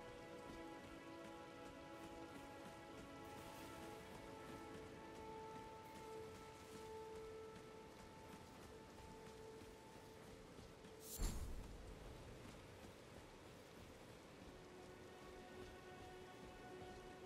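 Steady rainfall in Elden Ring hisses quietly throughout, layered under sustained ambient game tones, with one sudden sharp crack-like burst near the middle.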